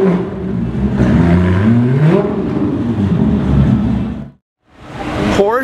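A Porsche sports car fitted with an Akrapovic exhaust revs loudly and close, its engine note rising and falling in repeated surges, cutting out for a moment before roaring back.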